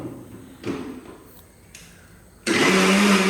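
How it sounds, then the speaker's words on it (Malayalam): A mixer grinder whirs loudly grinding a mixture, starting abruptly near the end with a steady high-pitched motor drone after a few quieter clatters. "ഇനി ഇതെല്ലാം കൂടെ ഒന്ന് മിക്സിയിൽ വെച്ച് നല്ല രീതിയിൽ അരച്ചെടുക്കാം"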